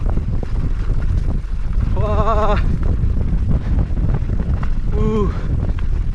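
Strong, steady wind on a mountain biking ride rumbles loudly against the microphone throughout, with a couple of brief wavering voice-like calls and a short exclamation over it.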